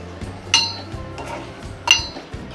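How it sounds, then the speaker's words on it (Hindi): A metal spoon clinks against a cooking pot while stirring spices for shahi chicken korma, with two sharp bright taps amid soft scraping and no talk. "अब चम्मच की मदद से सारे मसालों को अच्छे से मिक्स कर लेंगे।"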